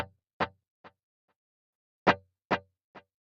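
Single picked notes through a Boss ME-90 guitar multi-effects delay, each followed by two or three fading repeats, with the last echo barely audible. Short, clean and isolated in silence.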